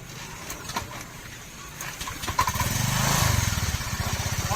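A Honda Vario Techno scooter whose rear wheel won't turn starts up and idles with a close, loud, putt-putting engine note that holds steady through the clip.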